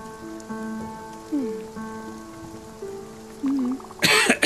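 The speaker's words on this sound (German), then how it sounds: "Sorry für den Husten." A single brief cough with a throat-clearing quality near the end, close and fairly loud, following a stretch of soft, tonal game music and pattering rain ambience from Spiritfarer.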